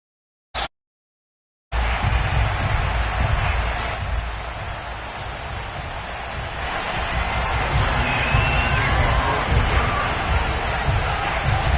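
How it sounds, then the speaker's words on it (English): Stadium crowd at an American football game between the Broncos and Bengals in Denver, a loud continuous roar of cheering and babble that swells steadily after a brief burst, with no speech over it. "This crowd is ready as their guys get set."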